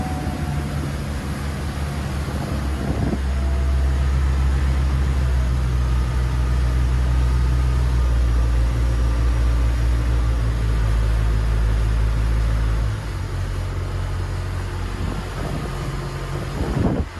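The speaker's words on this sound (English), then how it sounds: "that's how the Rinker 270 runs with the Volvo Penta D4 260 horsepower stern drive" A Volvo Penta D4 260-horsepower diesel stern drive on a Rinker 270 boat drones at steady cruising speed, a loud, deep, constant hum that eases off near the end.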